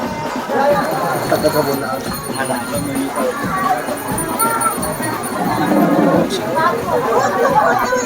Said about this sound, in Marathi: आता घोड्यावर बसून आपल्या घरी विशाल आणि विशाखा आलेले आहेत